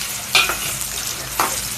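Soybean chunks fry in hot oil over a high flame, giving a steady, close sizzle with a couple of brief scraping stirs.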